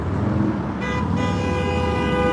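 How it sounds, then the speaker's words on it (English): A car horn honks in steady, sustained blasts over ongoing road traffic at a Yakima, Washington roadside, loud and close for about a second and a half. "There it is, first honk of the day."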